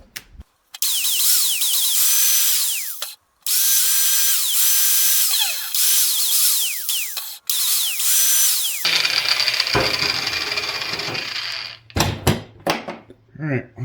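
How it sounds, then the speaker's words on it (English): A power tool grinds down a part for a VW Type 4 oil cooler on a Type 1 engine, loud whining bursts with short pauses between, then scraping and clanking handling noises at the end. "Grind that down and fit her in."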